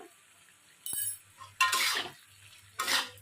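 A spoon stirs potol chingri, a pointed gourd and prawn curry, in a pan after garam masala is sprinkled on, giving a few short scraping and clinking strokes over a quiet, faint background.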